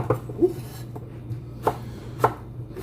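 A knife chops peppers and onions on a cutting board, a handful of sharp, close thuds arriving at an irregular, unhurried pace with quiet gaps between strokes.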